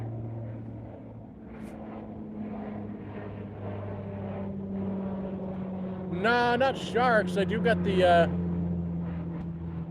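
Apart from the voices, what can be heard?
police float plane flying overhead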